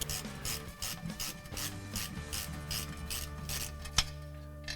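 Bolts being removed from a strut mount on a 1969 Corvette differential: steady ratcheting and metallic mechanism clicks, close and continuous, with one sharp metal knock near the end.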